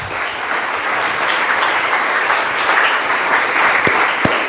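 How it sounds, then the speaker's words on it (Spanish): A church congregation breaks into loud, sustained applause, a dense wash of many hands clapping together that holds steady throughout, with a couple of sharper claps near the end. "Denle un aplauso al Señor, por favor"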